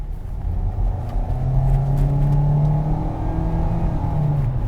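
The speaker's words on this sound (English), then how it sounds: "It's the raw power of the 2-liter 4-cylinder engine." A 2022 Kia Seltos with a 2-liter four-cylinder engine accelerates in sport mode, giving a steady, loud engine drone that climbs gradually in pitch as the gears are held, heard from inside the cabin with no talking.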